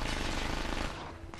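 Rapid sustained automatic gunfire in a first-person multiplayer shooter during a community game night, a dense near continuous rattle that dominates the moment and eases slightly toward the end.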